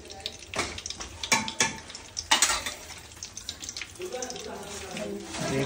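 Whole spices such as bay leaf, cinnamon and cloves fry in hot ghee and oil for Hyderabadi biryani, crackling and spattering in bursts with stirring clatter, while a voice talks over part of it.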